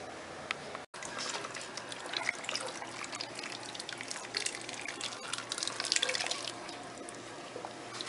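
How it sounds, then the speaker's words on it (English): Chicken broth pours from a pot into a crock pot in a steady, close liquid trickle and splash that runs nearly unbroken, with one brief gap near the start. "I'm getting ready to pour it into the crock pot."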